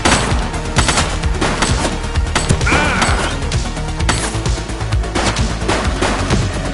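Dense, rapid bursts of gunfire from a shooting suspect crack out almost continuously, loud and close, with sharp impacts and crashes layered through the volley.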